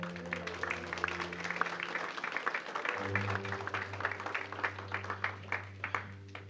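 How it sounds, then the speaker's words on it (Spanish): A church congregation claps along in a steady rhythm throughout, over sustained organ or keyboard tones. "Den un aplauso al Señor."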